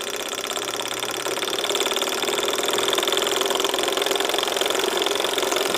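A Davies Charlton hot air engine runs on bottled gas, giving a loud, continuous mechanical hum with a fast rhythmic chatter that lifts slightly in pace partway through.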